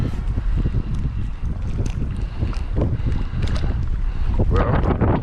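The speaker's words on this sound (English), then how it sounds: "it's too windy." Strong wind buffets the microphone during wade fishing for trout at Galveston, Texas, a steady loud roar with gusty low rumbling and splashy water texture throughout.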